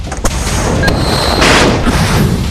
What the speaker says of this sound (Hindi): युद्धक जहाजों से निकलती मिसाइलें